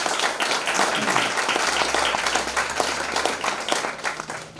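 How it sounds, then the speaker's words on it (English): A university nursing program's anniversary audience claps in sustained, dense applause that fills the room steadily from start to finish, loud and fairly close. "Certainly we can applaud that, right?"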